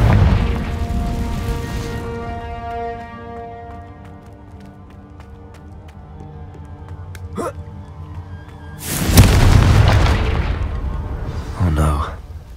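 In Hogwarts Legacy, a Confringo spell explosion bursts loudly about three-quarters of the way through, after a stretch of quieter tonal game ambience and a voice, followed by a smaller second blast near the end.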